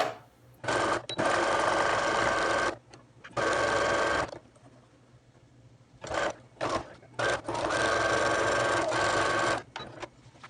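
A sewing machine stitches a fitted fabric face mask in several bursts of steady, buzzing stitching, stopping and starting between runs, close and fairly loud with no talking.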